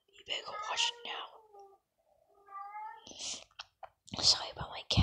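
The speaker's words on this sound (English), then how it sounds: "Sorry about my cat meowing." A cat meows several times up close, drawn-out and wailing, with soft whispered talk around the cries.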